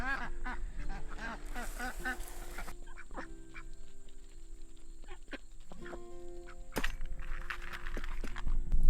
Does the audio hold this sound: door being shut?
no